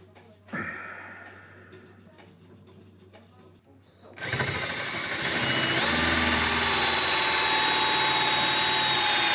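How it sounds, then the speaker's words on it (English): After a brief clatter and a pause, a power drill starts up and runs continuously and loudly, boring steadily into very hard wood. "I'll use the drill now to eat away more wood."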